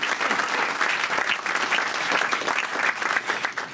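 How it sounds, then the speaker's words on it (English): Sustained, dense applause from a large audience at a Latin and Hispanic performers' awards gala, steady and loud throughout with no one speaking over it. "They deserve a round of applause with them."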